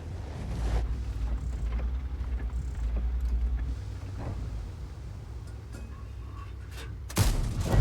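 A Centurion Mk 7/1 tank's cannon firing in-game, a single heavy shot near the end with a sharp, loud burst rising out of a low, rumbling engine and wind drone.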